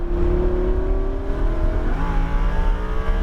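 Lamborghini Huracan LP 610-4 accelerating on a raceway circuit, a loud, steady engine drone rising in pitch, dipping briefly at a gear change, then climbing again, heard from inside without talk.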